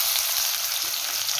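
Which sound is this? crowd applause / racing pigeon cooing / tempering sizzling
tempering sizzling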